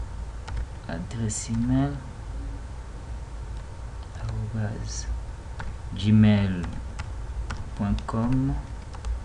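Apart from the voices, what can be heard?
typing on a computer keyboard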